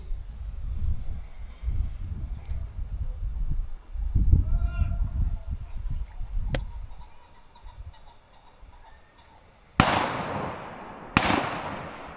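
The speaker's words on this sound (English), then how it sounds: "Very useful to have Matt there to tidy up my bad shooting." Two sharp shotgun shots ring out at a rainy game shoot, the first loud and the second about a second and a half later, each with a short decaying echo after a stretch of quieter outdoor background.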